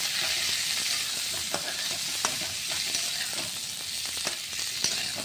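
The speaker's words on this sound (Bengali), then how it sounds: "ভেন্ডিগুলো দিয়েছি, কড়াইয়ে ছেড়ে দিলাম।" Okra hisses in a hot wok with fried onions and lentils, a loud constant sizzle with scattered clinks and scrapes of stirring, heard close and without voices.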